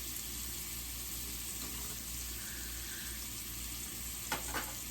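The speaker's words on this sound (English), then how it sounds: "I'll put the butter in and baste the, I was going to say veal chops, the lamb chops" Lamb chops sizzle in a pan while being basted in butter, a steady quiet frying hiss with a brief clatter near the end and no talking.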